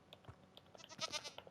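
A goat in the Minecraft video game bleats faintly in a few short, quick calls over a quiet background.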